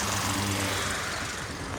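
A drilling machine bores horizontal holes into mountain rock, giving a loud, continuous engine-driven roar with a steady low hum, close by and heard without any talking.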